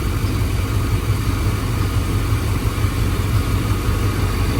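A 1994 GMC C1500 pickup with a 350 TBI engine idling slightly low, a steady, loud, close low rumble with an even throb and no voices.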